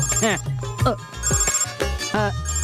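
A telephone rings in a Hindi-dubbed South Indian film scene, sounding as repeated warbling electronic bursts with short gaps, loud and close, over faint background tones.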